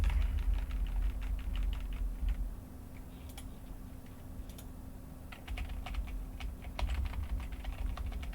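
Computer keyboard typing during 3D character rigging work, with bracket keys pressed as soft rapid clicks in uneven bursts and pauses over a low steady hum, close and quiet, no talking.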